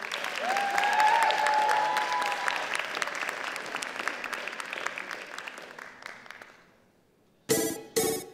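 An audience at a cosplay contest breaks into loud applause that swells and then tapers off to near silence, with a faint tone sounding over the start and a brief burst of sharp noise at the end.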